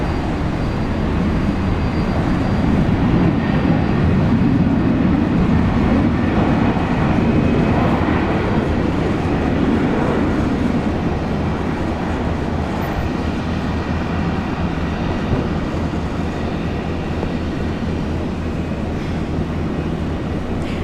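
A Virgin Australia airliner touching down on the runway at Brisbane airport produces a loud, steady, dense roar that holds throughout with little change, broad and heavy in the low range.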